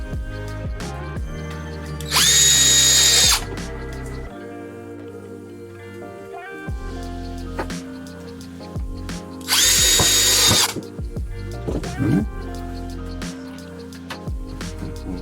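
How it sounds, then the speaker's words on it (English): A power drill with a screwdriver bit whirs in two loud bursts several seconds apart, driving screws into a painting panel frame, with quieter tool handling and clatter in between. "little screwdriver bit on the drill"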